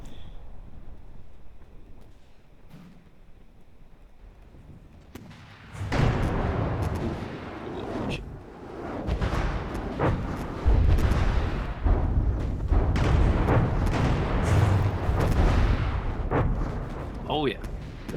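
In a fleet battle video game, missiles and laser fire boom out loud and heavy, with dense thuds and rumbling bursts that go on without a break after a quiet start. Someone talks over the noise.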